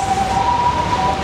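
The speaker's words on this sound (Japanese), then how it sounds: "また救急車が通りますので一時中断いたします。" An ambulance siren sounds on a street outside, a steady wailing tone holding over roughly one second against continuous traffic rumble, moderately loud and without speech.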